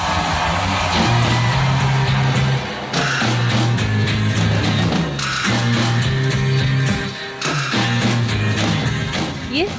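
Rock recording with distorted electric guitar riffs over bass and drums, loud and continuous, with driving repeated phrases and sharp accents.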